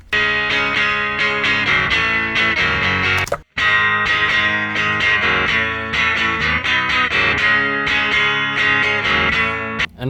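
Electric guitar on its neck pickup through a Boss DS-1 distortion pedal plays chugging, crunchy riffs with a brief pause midway, loud and close.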